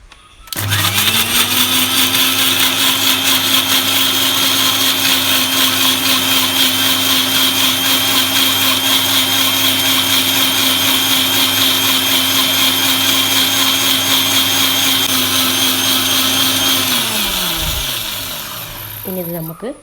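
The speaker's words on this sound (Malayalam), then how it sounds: "ഒരു മിക്സി ജാർ എടുത്ത് അതിലേക്ക് ഇട്ട് കൊടുത്ത് നന്നായി" A mixer grinder blends tomato chutney without added water, a loud, steady motor whine that runs for about seventeen seconds before winding down and stopping.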